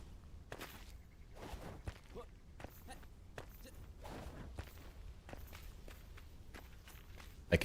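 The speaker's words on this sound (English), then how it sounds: "I can hear him running away from my wife right now. Just like the stomping of feet." Footsteps running and stomping in Enshrouded, a quick irregular series of fairly faint thuds and scuffs spread across several seconds against quiet game ambience, with a sharper knock at the very end.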